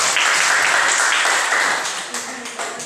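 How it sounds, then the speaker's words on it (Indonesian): A classroom full of students clapping in applause for a group presentation, loud and close, sustained for a few seconds and tapering off slightly. "beri tepuk tangan untuk kelompok"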